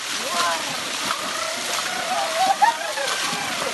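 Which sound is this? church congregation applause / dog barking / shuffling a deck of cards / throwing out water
throwing out water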